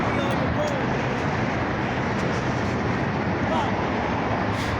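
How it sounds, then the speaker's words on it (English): Heavy road traffic roars continuously along a street under repair, a dense, loud wash of passing vehicles with no break across the whole stretch. "I can't hear you over all the traffic."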